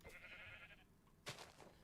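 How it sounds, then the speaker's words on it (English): A sheep bleats briefly in a Minecraft Skyblock world, a short wavering call followed a moment later by a sharper second sound, fairly faint and alone without talk. "Come here, baby sheep."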